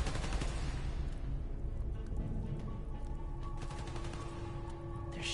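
Gunfire in the Spider-Man Miles Morales video game, a steady rattle of rapid shots like a fusillade running under a loud, dense background through the whole stretch.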